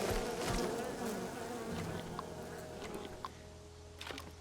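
Bees buzz in the video game Len's Island, a dense steady drone close by with a few brief sharper tones breaking through, and no voices over it.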